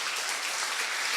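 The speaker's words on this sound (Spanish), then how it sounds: "Un aplauso nuevamente para el doctor." An audience at a science fair lecture on occupational ergonomics claps together, a dense, even burst of applause filling a hall for about a second.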